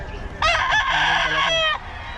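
Young stag gamecock crowing once, a loud, close, drawn-out cock-a-doodle-doo lasting over a second, with faint background noise before and after.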